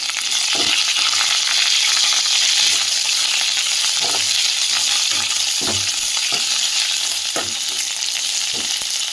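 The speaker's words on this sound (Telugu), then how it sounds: "మంచిగా వేగనిద్దాం ఇప్పుడు పచ్చిమిర్చి ఇప్పుడు పచ్చిమిర్చి వేగినాయి కదా" Green chillies and curry leaves frying in oil in a pan for tomato chutney: a loud, constant close sizzle broken by occasional spoon clicks as they are stirred.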